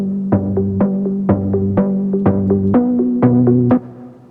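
A Legend HZ synthesizer patch with EQ and reverb plays a bouncy melodic phrase of evenly spaced notes, clear and present, with a short ambient tail lingering after the last note.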